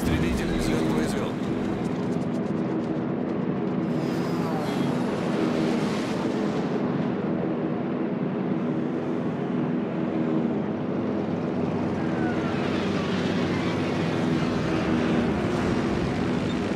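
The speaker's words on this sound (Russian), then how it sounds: "Истребитель взлет произвел." A fighter aircraft takes off from a Soviet carrier in World of Warships, a dense, loud engine roar swelling and holding over the low rumble of the sea, with spoken radio callouts mixed in.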